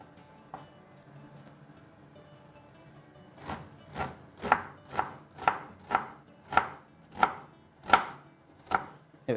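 An onion for zucchini fritters is chopped on a board with about a dozen sharp knife strikes at a steady, even rhythm after a quiet start with faint handling sounds.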